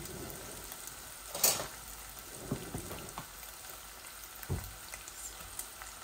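Onions sizzling in a pan of oil while keema cooks, a soft steady frying hiss with a few louder stirring clatters.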